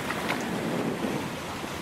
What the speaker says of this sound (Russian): Журчит вода.